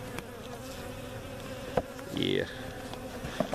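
Honeybees buzz steadily inside a hive whose lower section is crowded and healthy, one louder swell of buzzing rising briefly close by; a short spoken word is heard.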